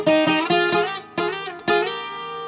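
A requinto guitar plays a short melodic phrase from a song, bright plucked notes in a steady rhythm with brief pauses between groups, close and clear with no talking.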